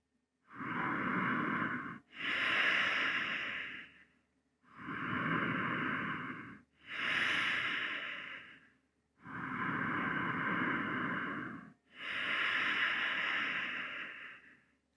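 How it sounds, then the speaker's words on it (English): Slow, deliberate conscious breathing right up against a microphone, six long airy inhales and exhales in a steady rhythm, loud and close with short pauses between. "let me just give you an example for a few seconds of conscious breathing"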